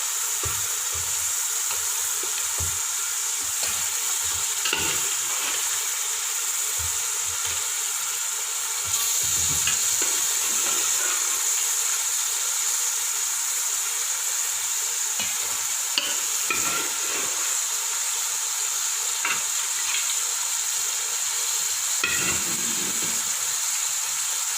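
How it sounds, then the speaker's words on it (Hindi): Beef pieces being fried in masala for pulao, a loud, continuous close sizzle lasting throughout with scattered scraping stirs and occasional bursts of spatter, no talk. "अब हम इसमें गोश्त जो यखनी के अंदर है इसको निकाल के इसमें भूनेंगे।"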